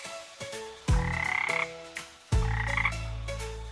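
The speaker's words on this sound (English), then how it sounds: "I see a green frog looking at me." A cartoon green frog croaks in a nursery-rhyme song, giving several loud, resonant croaks in two main bursts with short gaps between them, alone without talk.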